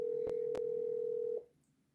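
A steady single-pitch telephone calling tone holds for over a second, broken by two brief clicks, then cuts off into quiet background.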